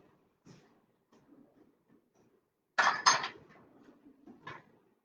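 A tablespoon fished out from among other cutlery: scattered light taps at first, then a bright burst of metallic clinking and rattling, a softer follow-up clink, all close and clear with no talking.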